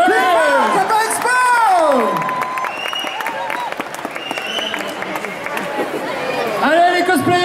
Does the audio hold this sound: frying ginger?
no